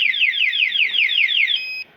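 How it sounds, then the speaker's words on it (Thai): A TEXNO anti-theft alarm fitted to a Yamaha Lexi 125 motorcycle wails loudly in rapid repeated warbling sweeps for about a second and a half, ending in a brief steady tone before cutting off. "สเต็ปแรกจะร้อง4 วิแล้วหยุด"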